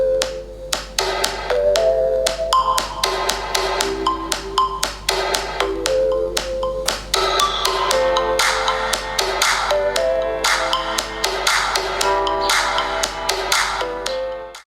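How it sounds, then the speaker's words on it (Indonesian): Music plays from the single mono speaker of an Infinix Hot 9 phone at maximum volume: a bright plucked melody with steady percussive taps running continuously, clear and undistorted, with no talking. "Yang suaranya kayak gini sob, kalau di setel dengan volume maksimal."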